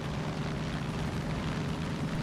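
Aircraft in the video game Far Cry 5 drone through a dense, steady rumble, loud and unbroken with no clear passes or voices.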